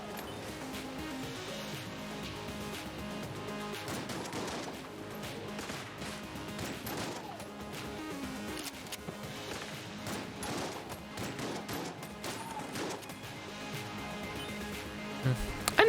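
Shotgun blasts in a video game crack out repeatedly amid dense, continuous gameplay noise and clatter, loud and close.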